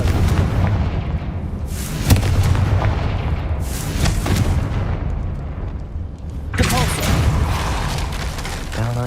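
Confringo spell blasts in the Hogwarts Legacy video game land as several loud, booming explosions with sharp cracks, spaced across the scene amid ongoing game effects and some voices.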